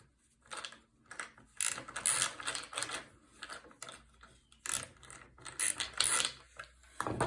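A screw is driven into a wooden nesting box, heard as bursts of close ratcheting, whirring mechanical noise with short pauses between them.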